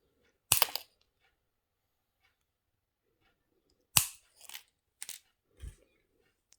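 Several sharp snips of wire cutters trimming wire ends short on a wire-wrapped pendant, one crisp cut early followed by three quicker clips a few seconds later, close and isolated with quiet between.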